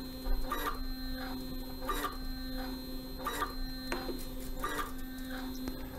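A Grundfos DDA digital dosing pump runs indoors, with a steady electrical hum under evenly spaced mechanical strokes, soft and regular at roughly one pulse every second.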